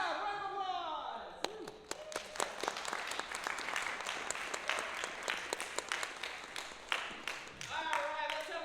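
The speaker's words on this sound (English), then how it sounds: "Come on, round of applause." A studio audience at a game show bursts into applause for the contestants, a dense run of claps that fades and returns, with a person talking over it.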